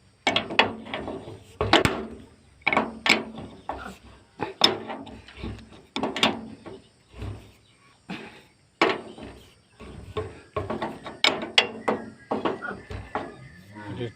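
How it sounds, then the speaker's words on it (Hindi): Nuts being tightened with a tool on a rice huller machine, repeated metallic ratcheting clicks and clanks in irregular bursts, close up, with no talk. "इस पर वाला नट भी टाइट कर लेना है। इस तरह दोनों नट को टाइट कर देना है।"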